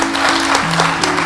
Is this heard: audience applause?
yes